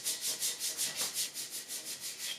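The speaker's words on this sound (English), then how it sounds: "I sanded the top of the trophy down to bare wood" Hand sanding of a wooden trophy top down to bare wood: a steady back-and-forth rasp of about a dozen even, close strokes, unaccompanied.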